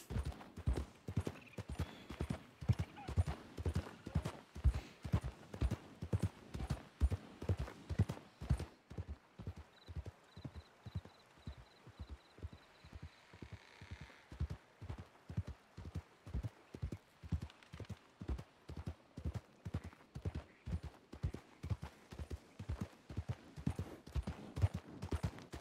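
A horse gallops across open country in RedM, a Red Dead roleplay game, its hooves drumming in a fast, even rhythm that runs unbroken for the whole stretch, close and clear with no talk over it.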